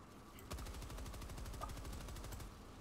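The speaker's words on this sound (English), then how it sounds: "He's shooting at me." Rapid automatic gunfire from a Helldivers battle, a fast even stream of shots running almost the whole time, fairly faint and distant-sounding.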